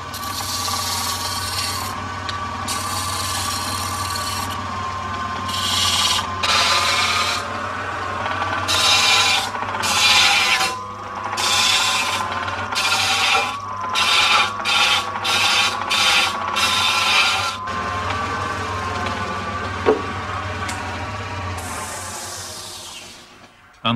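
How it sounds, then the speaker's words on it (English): Steady whirring of a wood lathe turning a table's tripod center pillar, with repeated scraping bursts as a tool cuts into the spinning wood, close and continuous. "Now it's back to the lathe. This time Michael is turning the center pillar of the tripod leg"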